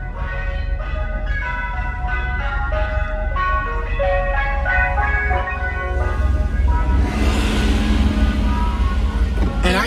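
A Mister Moes ice cream truck cruising around Philadelphia plays its tinkly chiming jingle loudly and continuously over a steady engine rumble. Road noise swells near the end.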